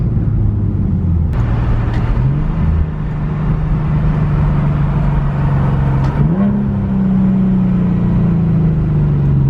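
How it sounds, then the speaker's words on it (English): A 2014 Infiniti Q50 with its muffler deleted hums loudly in the cabin at a steady engine drone that steps up in pitch twice as it downshifts, with no voices. "That nice little downshift, you hear me?"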